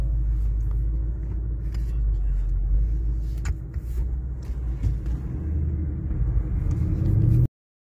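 A car pulls away from a police traffic stop with a low rumbling engine and road noise that builds and fluctuates for several seconds, then cuts off abruptly.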